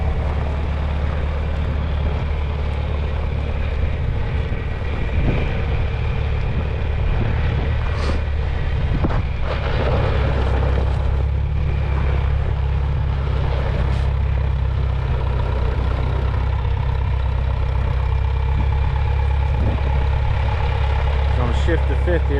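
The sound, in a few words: old green tractor engine running while driving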